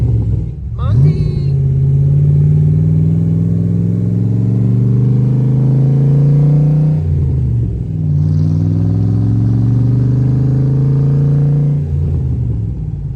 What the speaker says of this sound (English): Want to learn how to drive on a Cobra? Monty!